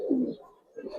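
A pair of Giribaz silver high flyer pigeons coo up close in two short, low throaty bursts separated by a brief pause.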